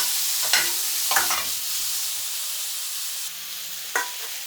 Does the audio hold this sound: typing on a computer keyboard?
no